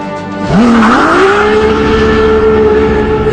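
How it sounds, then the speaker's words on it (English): A Ferrari LaFerrari hybrid hypercar launches hard, its engine note sweeping sharply upward then holding a loud, sustained high-revving howl as it accelerates up close, with faint tire noise. "Per the data, the LaFerrari pulls a 1G average from 0 to 65 miles an hour."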